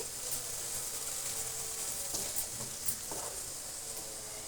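Black-eyed peas (bobbarlu) fry in a pan with a continuous moderate sizzle, broken by a few soft scraping stirs near the middle, with no talking.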